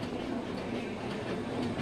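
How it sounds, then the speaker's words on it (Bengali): A train rolling through Santragachi junction, with a steady rumble and a dense clatter of wheels and carriages that holds close and even throughout, no voices on top. "আমাদের ট্রেন এখন সাঁতরাগাছি স্টেশন ক্রস করছে"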